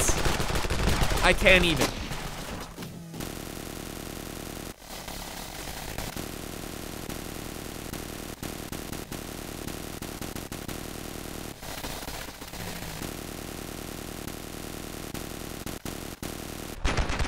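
In the Ravenfield video game, a heavy machine gun fires in a long, dense unbroken stream of shots alongside distant battlefield gunfire, loud and continuous, with a brief spoken line early on.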